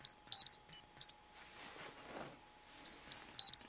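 A phone rings with rapid high-pitched electronic beeps, loud and close, in two clusters of quick pulses separated by a quieter stretch of faint background noise.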